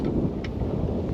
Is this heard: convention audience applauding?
no